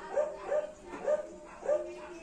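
Dogs bark four times in a steady rhythm, each bark clear and fairly close, with quiet background between them.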